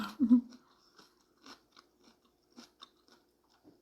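Papaya salad being chewed close up, with a louder first bite followed by soft, scattered crunches and wet mouth sounds at irregular intervals in otherwise quiet surroundings.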